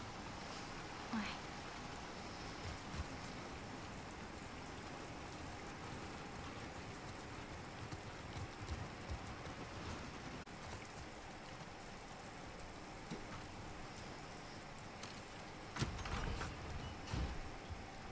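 Steady rain falls in The Last of Us Part II, a constant soft hiss with scattered drips and a few louder knocks and footfalls near the end, continuing alone without talk.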